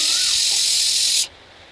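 A pressure cooker cooking tripe lets out a loud, steady jet of hissing steam. The hiss stops abruptly after about a second, leaving quiet room noise.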